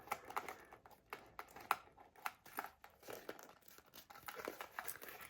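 Clear vinyl crinkles and crackles as a seam is folded down on a boxy bag being sewn, a string of quiet, irregular crisp snaps and rustles close to the ear, with no talking.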